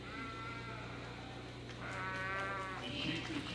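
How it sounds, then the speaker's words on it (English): Sheep in a livestock show ring bleat several times with wavering, nasal calls over a steady background hum, fairly close and clear, no talking. "the sheep that have come to the ring today"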